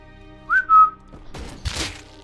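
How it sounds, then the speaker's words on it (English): A player character whistles in the survival game Rust, a short two-note whistle with a rising then steady pitch, followed by scuffling footsteps and clatter nearby. "a single whistle will attract anyone"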